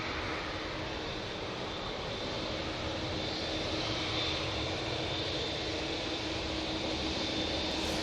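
A Boeing 787 Dreamliner jet at Manchester Airport produces a continuous, broad engine roar, steady and fairly distant, with no talk.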